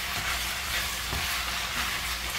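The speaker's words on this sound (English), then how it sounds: "I'm gonna take my spatula. Move that around a little bit." Chili cooking in a frying pan as a spatula stirs it, giving a steady broadband sizzle with faint scraping, close and continuous throughout.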